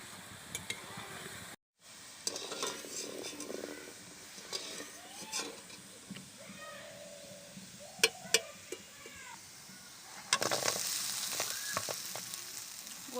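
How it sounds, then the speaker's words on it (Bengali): Semolina gulab jamun balls fry in oil with a steady low sizzle and bubbling, plus a few scrapes and clinks of a utensil. The frying grows louder and brighter toward the end. "এগুলোও আমি লাল লাল করে ভেজে নেব।"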